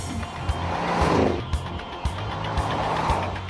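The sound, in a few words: Mercedes-Benz GL63 AMG 5.5-litre twin-turbo V8 petrol engine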